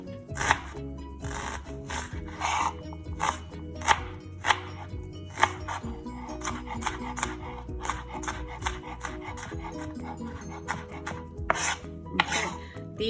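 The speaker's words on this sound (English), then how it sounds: "these are our chopped onions" A knife chops onions on a cutting board in quick, uneven bursts of sharp taps and scrapes, close and fairly loud, repeating steadily throughout with no voices.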